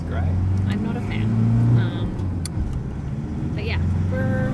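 Oncoming traffic streams past a pulled-over Land Rover Defender on a narrow Scottish road, with several vehicles rumbling by close and loud in succession as people talk over them.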